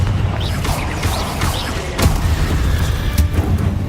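Confringo fire spell blasts in Hogwarts Legacy combat, repeated booming impacts with sharp cracks at about two and three seconds over a rumbling game background.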